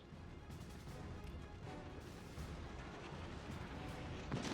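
A heavy shell strikes the citadel of a Hindenburg cruiser in World of Warships Legends, played from a Kronshtadt; a dense, continuous rumble of naval gunfire and impacts fills the scene, with a sharper crack near the end.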